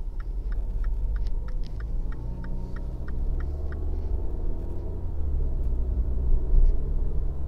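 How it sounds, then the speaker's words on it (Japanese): A Mini Clubman Cooper S with about 62,000 km on it driving along, its engine giving a smooth low rumble under road noise, with a steady ticking of the turn signal for the first few seconds and no talking. "エンジンも滑らかですね。"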